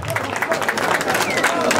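A crowd claps and cheers at a live performance of a Peruvian music group, dense applause filling the moment with voices mixed in.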